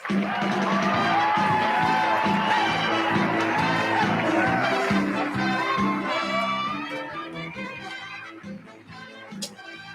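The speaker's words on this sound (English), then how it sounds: "Please give me a very warm round of welcoming applause to Miss Suzanne Somers." Studio audience cheering and clapping to welcome actress Suzanne Somers on a live show; loud whoops and crowd noise over music-like tones, fading gradually toward the end.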